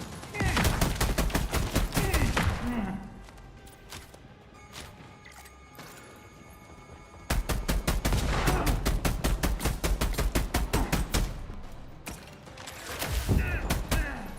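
Bursts of rapid automatic gunfire in The Expanse: Osiris Reborn sci-fi action game, two long sustained volleys with a quieter stretch between and a short burst at the end, loud and close.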